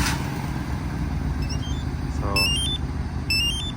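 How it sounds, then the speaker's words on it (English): A Chevy Tahoe idles steadily as a low engine rumble after a remote start, with short high electronic chirps and beeps from its Compustar alarm system sounding twice near the end. "for remote start, you're just pressing in the middle right here, just press and hold, and it should start the truck right there"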